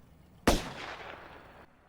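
A single sharp gunshot from a TV drama scene cracks out loudly and then trails into a fading rumble lasting about a second.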